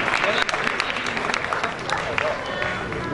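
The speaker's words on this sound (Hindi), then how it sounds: "तालियों की आवाज आनी चाहिए।" A crowd claps at a Bikaner Brahman Swarnkar election gathering, a dense patter of steady applause from many hands, with voices talking underneath.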